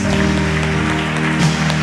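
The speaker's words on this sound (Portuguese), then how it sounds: "Vamos aplaudir a Jesus." A church congregation at a family conference claps for Jesus, a broad wash of applause blended with sustained music underneath, loud and continuous throughout.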